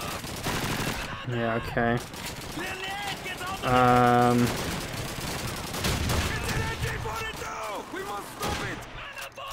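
Machine gun fire in the World War II shooter Call of Duty 2, rapid bursts of automatic gunfire mixed with game sounds while players talk over the action.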